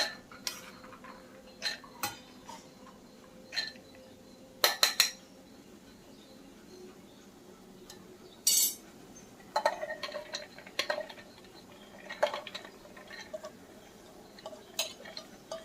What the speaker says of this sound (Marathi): आता आपण ही डाळ घेऊया मिक्सरमध्ये